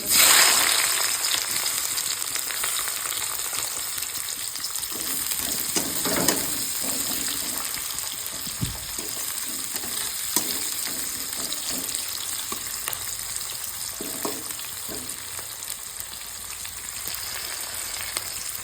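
Chopped onion fries in a pan for an Odia-style country crab curry, giving a steady close sizzle with occasional stirring scrapes throughout and no speech.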